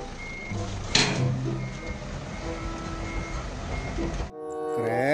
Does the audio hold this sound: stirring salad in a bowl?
no